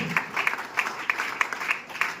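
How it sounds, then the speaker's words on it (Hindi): Audience applause at a speech event in India, where families are being invited onto the stage. Sparse, light clapping comes in a loose rhythm of distinct bursts against a quiet room. "तालियां"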